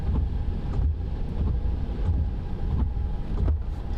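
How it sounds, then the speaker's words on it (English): Strong wind buffeting the microphone in a continuous low roar, with gusts swelling and easing in irregular waves, during a tornado intercept near Platte, South Dakota. "I can hear the wind."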